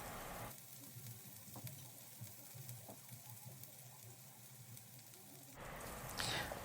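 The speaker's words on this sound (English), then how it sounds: "Add a tablespoon of cooking oil to the wok. Throw in your diced onions." Diced onions and green onions frying in a tablespoon of cooking oil in a wok for fried rice, a soft steady sizzle with a louder burst of hiss near the end, quiet overall.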